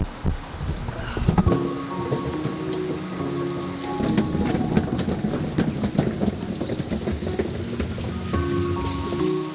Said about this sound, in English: Okay, rain is getting a little hotter.